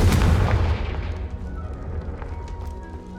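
Spell casts fired off in the Hogwarts Legacy video game, a Flipendo then a Confringo: a loud booming burst at the start that rolls into a rumbling, crackling decay, with a few small pops trailing off.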